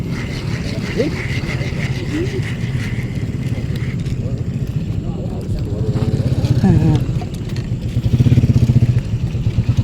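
A motorcycle engine idles and revs near a small fishing spot, giving a steady throbbing drone that swells louder toward the end, while people talk over it.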